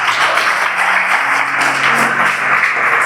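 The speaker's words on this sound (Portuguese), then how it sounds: "Aplauda o Senhor Jesus." Church congregation clapping together during a sermon, a dense, loud wash of applause that stays even throughout, with a faint sustained tone underneath.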